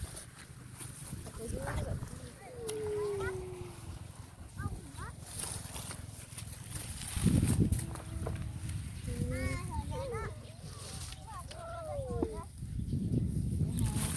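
Chickens cluck and call in short scattered bursts near an outdoor spot where people gather shellfish in the evening, heard under ongoing talk from adults and children.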